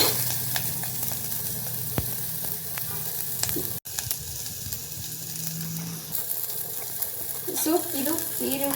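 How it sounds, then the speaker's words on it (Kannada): Onion and garlic fry in a pan with a steady, close sizzle, broken by occasional scrapes and knocks of a utensil stirring, with a brief sharp clack partway through. "ಈ ಕಡೆ ಇದಿಷ್ಟನ್ನು ಫ್ರೈ ಚೆನ್ನಾಗಿ ಒಂಚೂರು ಈರುಳ್ಳಿ ಕೆಂಪುಗೆ ಉರಿಬೇಕು."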